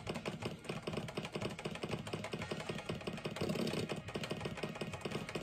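Keys pressed on a ZX Spectrum computer keyboard give a steady run of rapid, fairly loud clicks and taps throughout, with a low background hum and no voices.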